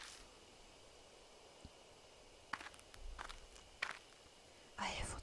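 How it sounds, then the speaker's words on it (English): Footsteps move through bushes in the horror game Death Mark, a few soft, scattered crunches and rustles at moderate distance over a faint hiss, with a louder shuffle near the end. "I hear footsteps again"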